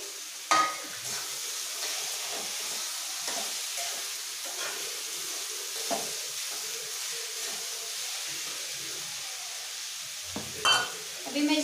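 Onions frying in a pan and being stirred, with a steady broad sizzle and hiss throughout, punctuated by a few sharper scraping or clattering touches near the start and end.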